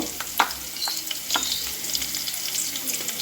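Potatoes fry in a pan with a steady close sizzle and crackle, punctuated by soft scraping stirs and brief spatters.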